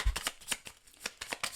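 Tarot cards shuffled by hand in a quick run of soft riffling slaps, about eight bursts in under two seconds, close and fairly quiet with no talking.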